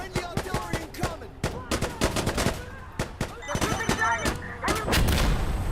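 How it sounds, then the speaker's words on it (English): Friendly artillery fire in the video game Death Stranding, a dense barrage of sharp gunshot-like blasts and thuds rattling in rapid succession, loud and continuous throughout. "Friendly artillery incoming!"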